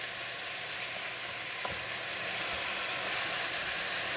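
Partly frozen meat for homemade vegetable soup sizzles steadily in a pot, a close, even hiss with a faint scrape of stirring partway through and no voices.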